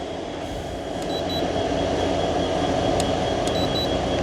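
A used air treatment unit runs its air conditioning at high fan speed indoors in a warehouse, giving a loud, steady close-up whoosh and hum with a few faint electronic beeps, and nobody speaking.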